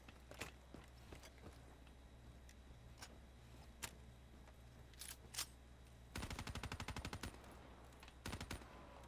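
Rapid-fire upgraded weapon in Black Ops 3 Zombies on the Der Eisendrache map: scattered single shots, then a fast continuous automatic burst and a shorter second burst near the end, crisp and prominent over quiet game ambience.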